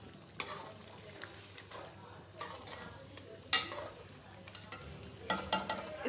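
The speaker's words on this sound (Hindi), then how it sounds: "इसको भून कर मैं आपको दिखाती हूँ" Chicken karahi frying in a pan, with a soft sizzle under sporadic scrapes and knocks of a spatula against the metal as the meat is stirred and browned.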